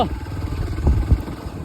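A motorcycle engine rumbles steadily up close, with a couple of heavy thumps and clatters as it jolts over a rough, uneven road.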